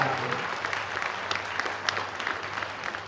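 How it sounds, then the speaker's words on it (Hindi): An audience applauding at a stage event at a cow-care hospital, a dense, steady clatter of many hands clapping at moderate distance, sustained for several seconds. "एक बार जोरदार ताली बजाकर के सारी बात करें।"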